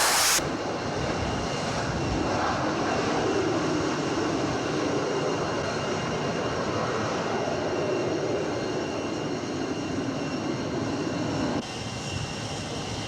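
Jet aircraft roar steadily on an aircraft carrier flight deck, a loud, continuous engine drone that holds for the full length and dips slightly near the end, with no voices.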